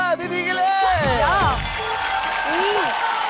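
Studio audience at a children's dance contest cheering and clapping for a young contestant, a short burst of crowd noise with whoops under a host's voice and background music.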